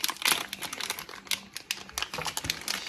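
A plastic blind-bag package holding a LOL roly-poly toy is torn open, giving close, irregular crinkling and rustling bursts of thin plastic throughout.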